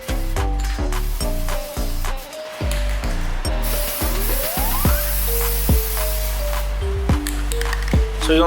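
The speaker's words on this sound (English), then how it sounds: "Spray one coat down" A spray paint can hisses repeatedly in bursts up close, coating a plastic gun case, over a loud background of steady tonal music.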